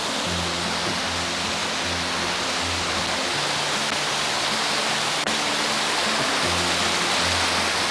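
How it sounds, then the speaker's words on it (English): Machine Falls, a waterfall in Tennessee, pours out a steady, dense roar of rushing water that holds even and unbroken throughout, with no voices over it. "One of my favorite waterfalls."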